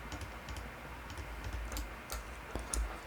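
Keys pressed on a computer keyboard while working in Blender, giving a handful of soft, scattered clicks over a steady low background hum.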